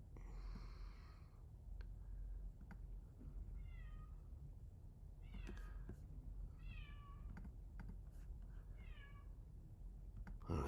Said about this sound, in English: there goes my cat again